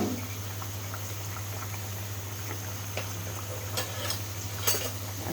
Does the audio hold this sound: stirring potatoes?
yes